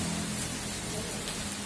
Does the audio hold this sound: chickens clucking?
no